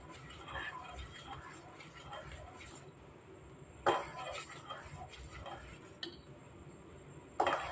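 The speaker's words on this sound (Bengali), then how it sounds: "আমি আরেকটু নাড়ছি এভাবে অনাবরত নাড়তে হবে" A metal spoon scrapes and clinks against a pan while a thickening dessert mixture is stirred continuously, the soft rhythmic scraping broken by a few sharp clanks, with someone talking over it.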